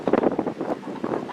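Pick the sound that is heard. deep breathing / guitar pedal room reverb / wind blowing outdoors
wind blowing outdoors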